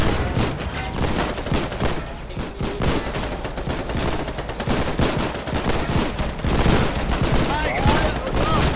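Continuous crackling small-arms and machine-gun fire during a beach landing assault in Foxhole, a dense, steady barrage with scattered louder shots, while players talk over it.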